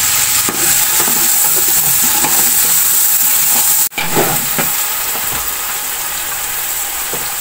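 Fried onions and tomatoes sizzle loudly in a pot for a chana pulao, a steady close hiss with stirring scrapes and a brief interruption partway through.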